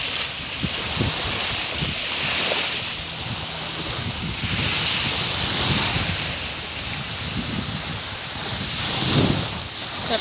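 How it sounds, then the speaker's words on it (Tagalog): Sea waves breaking at Dauin beach near Dumaguete in the Philippines, a continuous rushing surf with wind buffeting the microphone and swells rising and falling, no talk. "At kung maririnig nyo, yung ingay ng dagat"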